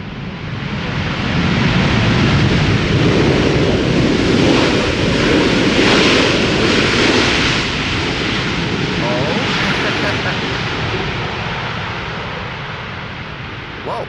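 KLM airliner landing at Amsterdam Schiphol with thrust reversers deployed, a loud sustained roar and whoosh that swells and slowly fades over many seconds, with wind noise on the microphone.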